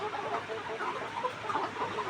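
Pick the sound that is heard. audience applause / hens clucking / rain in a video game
hens clucking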